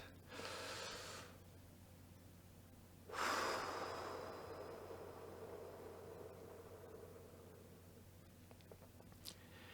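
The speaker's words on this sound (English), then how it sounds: "Take a nice, slow, deep breath." Slow, deep breathing during a relaxation exercise: a soft breath at the start, then a longer, louder rush of air that fades slowly. It is close and quiet, with no talk.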